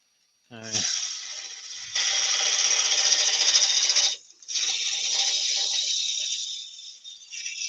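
A woodturning tool cutting a tulip-shaped wooden drinking vessel on a lathe, with its bevel rubbing, heard as a sustained hissing, scraping cut that breaks briefly once and then resumes, close and steady.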